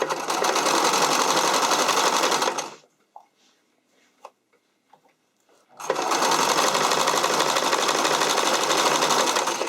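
Loud, close bursts of rapid whirring from a sewing machine zigzag-stitching elastic onto a skating dress, with a pause of faint fabric handling and clicks between two long runs.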